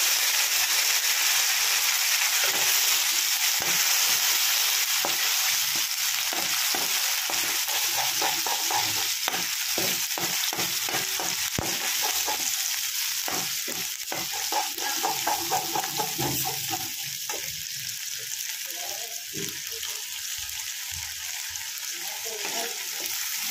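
Onion, ginger, garlic and tomato paste frying in a pan over low to medium flame for a coconut-milk prawn curry, a steady loud sizzle with repeated scraping stirs throughout.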